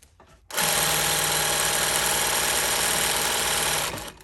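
A sewing machine runs at steady high speed for about three and a half seconds, stitching horsehair braid onto a dress train in a straight line. Its rapid mechanical whirr and chatter start abruptly after a quiet moment, then stop.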